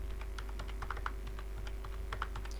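Email and password typed on a computer keyboard for a login, a steady run of light, irregular key clicks with a few sharper taps, close and quiet over a constant low electrical hum.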